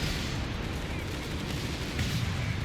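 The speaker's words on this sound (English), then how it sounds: "Wizbangs firing all the rockets." Wurfrahmen rocket artillery firing in the video game Company of Heroes 3, a dense continuous rumble of launches and explosions from a large battle, loud and sustained with a sharper burst near the end.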